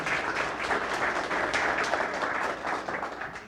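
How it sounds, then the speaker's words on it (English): An audience at a container technology conference claps together. The applause is steady and fairly loud, a dense patter of many hands that holds throughout without voices. "I'd say we just give another round of applause for them."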